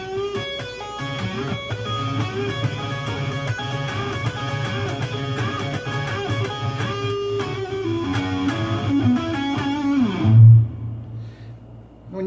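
A Gibson Les Paul Traditional electric guitar on the neck pickup plays a thick, throaty run of sustained overdriven notes, ending on a low note that rings out and fades.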